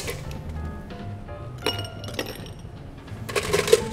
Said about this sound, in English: So let's fill it up with ice.